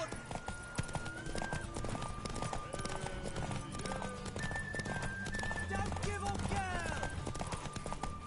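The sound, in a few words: horse galloping in The Witcher 3 video game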